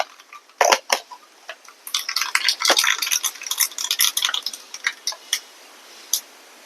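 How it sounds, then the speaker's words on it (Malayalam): Mustard seeds drop into hot coconut oil for a sambar tempering, setting off a close burst of crackling pops and clicks that thickens and then thins out, with a light pan clatter. "അങ്ങനെ എണ്ണ ചൂടായി. നമുക്ക് കടുക് ഇട്ട് കൊടുക്കാവേ."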